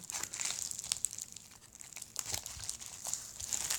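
An unboxing package being cut open: close, crackly crinkling of packaging plastic with short tearing rips and rustles, uneven in rhythm and moderately quiet.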